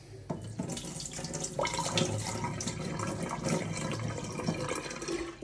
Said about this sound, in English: Drain off the water.